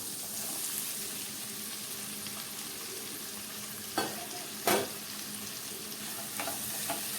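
Tomatoes sizzle and fry with sautéed green chillies in a pan, a steady hiss with two sharp clatters of a spoon stirring and a few lighter scrapes, no talking.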